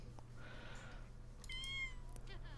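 Cat meowing in The Sims 4, a couple of short, clear meows standing out over a quiet game soundscape with no talk.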